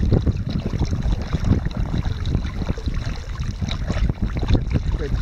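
A pedal boat moves in a circle on a lake, giving a steady rush of churning water and wind buffeting close to the microphone, with no voices.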